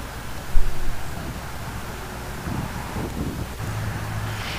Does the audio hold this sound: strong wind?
yes